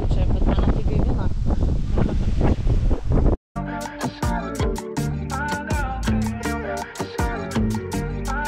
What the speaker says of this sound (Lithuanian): Vėjelis tai gerai pučia, bet mane tai gaivina